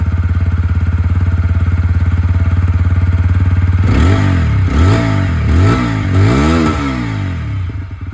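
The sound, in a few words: TVS Apache 160 4V motorcycle exhaust sound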